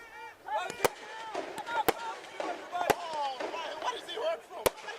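Fireworks bursting at a UPSL Division 1 championship soccer match after a home goal, Cardinal FC against Gastonia FC: several sharp loud cracks spaced a second or so apart over steady crowd noise and whistling, with commentary voices underneath.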